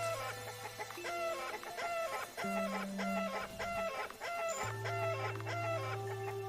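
Chicken clucking from an RPG Maker video game, a string of short repeated clucks over steady low game music, with a few brief crowing-like notes; no talk.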